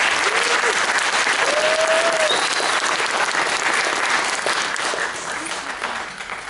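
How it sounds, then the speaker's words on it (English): Audience applause for the bassist of a high school jazz combo at a winter concert, a dense sustained wash of clapping that fills the room and tapers slightly toward the end, with a few voices calling out over it. "Give him another round of applause."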